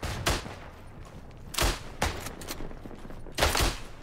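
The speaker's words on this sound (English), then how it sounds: "We're being shot at." Gunfire in a World War 1 video game rings out in several loud separate bursts spaced a second or more apart, over a steady background rumble of battle.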